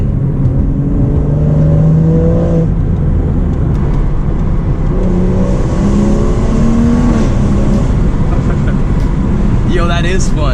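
A modified BMW 340i M Sport accelerates hard with paddle shifts. The loud engine note climbs in pitch, drops abruptly at each gear change, then climbs again, heard up close from inside the car.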